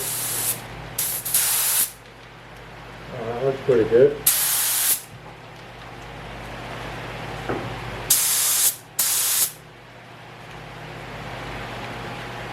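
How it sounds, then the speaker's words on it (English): Several sharp bursts of a spray gun hissing loudly as it sprays epoxy primer, each a second or two long, separated by quiet gaps, with a brief spoken remark between. "I'm just going to see what the spray pattern does on this piece of paper here"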